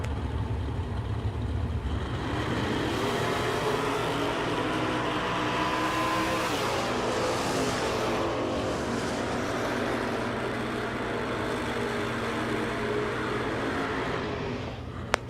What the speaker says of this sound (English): Wayne Trammell on the dragster on the left-hand side